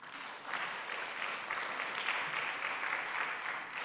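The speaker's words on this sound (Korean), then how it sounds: "우리 박수 한번 쳐주세요." A church congregation at a Sunday worship service claps together in a sustained, even round of applause lasting several seconds.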